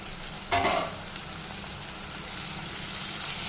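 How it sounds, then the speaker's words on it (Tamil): Onions, tomatoes and green chillies sauté in a pan for dal tadka, giving a steady soft sizzle with a brief louder stir near the start, no voices. "ஒன்று சேர்ந்து நல்லா வதங்கட்டும் தக்காளி நல்லா வதங்கி வரணும்"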